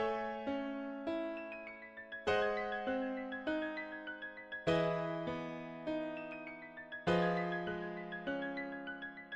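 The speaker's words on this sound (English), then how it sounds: "so the bridge is where I made a different piano progression" A piano chord progression from a song's bridge, with struck chords changing every second or so and ringing out between strikes. It plays softly and evenly, alone with no drums or voices.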